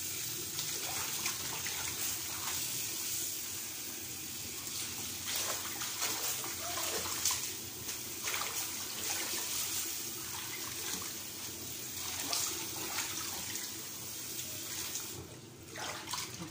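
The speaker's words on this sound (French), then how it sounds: "là, je lave ma salade laitue." Lettuce washed under a running kitchen tap, a continuous broad rush of water with uneven splashes and handling noises, steady and close for the whole stretch.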